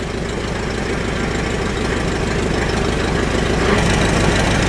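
An old Farmall tractor engine, sitting unused for years, runs steadily at a low, throbbing idle with a rough knocking rhythm, loud and close with no talk.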